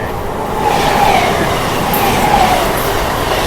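A fast local train runs on the Howrah–Bardhaman chord line in India, its loud, steady rumble and rolling wheel noise filling the whole stretch, with faint squeals from the rails.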